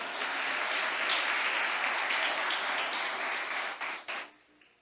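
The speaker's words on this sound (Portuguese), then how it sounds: "Você pode aplaudir a Ele por isso?" A church congregation claps together in a full, sustained round of applause that holds steady for about four seconds, then thins into a few scattered claps and fades out.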